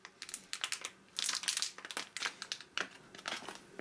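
A crinkly plastic wrapper on a cotton-candy bubble gum sweet is pulled open up close, in bursts of sharp rustling and crackling that start and stop quickly, with no talk over it.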